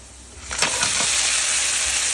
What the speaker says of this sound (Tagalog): Igisa na natin tong alimasag